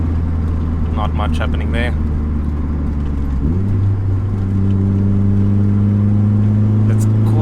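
A turbocharged 2.0 16V engine in a 1991 Mk2 Golf GTS hums at a steady drone, then climbs sharply in pitch and holds higher as boost builds, with someone speaking briefly over it early on.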